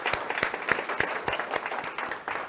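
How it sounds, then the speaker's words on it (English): An audience claps at the inauguration of the ZF Technology Centre in Hyderabad, a moderate patter of hand claps from a modest crowd, fairly close and steady. "the entire family of ZF deserves a huge round of applause"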